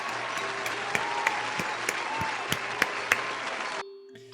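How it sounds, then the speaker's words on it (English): A burst of clapping and cheering from a crowd fills the space, steady with a few sharp louder claps, then cuts off abruptly near the end. "That deserves a round of applause"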